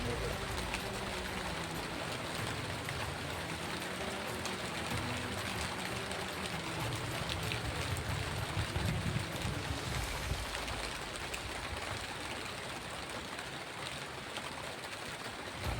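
Heavy rain falling steadily outdoors, a dense continuous hiss at moderate distance that persists throughout with no distinct drops standing out.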